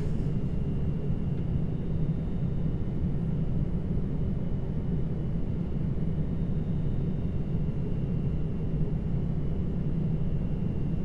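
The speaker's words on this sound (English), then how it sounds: "Let's land this aeroplane." Steady low rumble of a Magknight Boeing 787 airliner's engines on ILS approach to landing in a flight simulator, a constant, fairly quiet drone with a faint whine and no voices.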